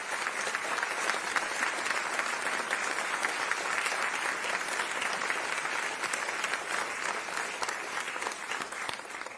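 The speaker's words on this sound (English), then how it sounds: "So, Chancellor, let us give you a round of applause." A convocation and investiture audience giving the Chancellor a long round of applause, thick continuous clapping from a large crowd held at an even, loud level from start to finish.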